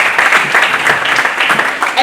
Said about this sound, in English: please, a round of applause to the schools here.